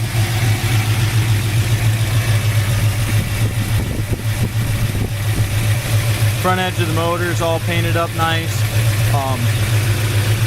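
A 1972 Ford Mustang Mach 1 with a 351 Cleveland four-barrel V8 and aluminum heads idles steadily with a low, even rumble throughout, while someone talks over it nearby.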